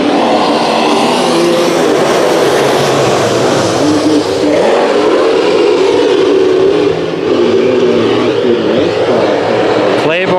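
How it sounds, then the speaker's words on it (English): Sport Mod race cars roar around Santa Maria Speedway during a nighttime heat race, a loud, dense wall of engine noise that holds steady and close for the whole stretch. "The number Sport Mods getting ready for the second heat race of the night."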